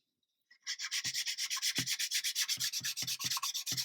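Fine 800-grit sandpaper rubs back and forth over a 1/35 scale Tiger tank model in quick, steady strokes, a close, even hiss repeating in a rapid rhythm.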